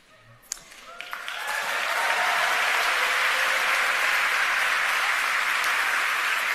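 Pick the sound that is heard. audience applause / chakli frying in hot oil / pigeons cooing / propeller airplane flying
audience applause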